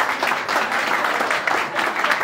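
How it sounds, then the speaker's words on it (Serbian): Guests at a wedding reception in a restaurant applaud the bride's parents: a dense, steady wash of many hands clapping at once, continuous and fairly loud throughout. "ja ću vas zamoliti za jedan aplauz za roditelje od naše mlade"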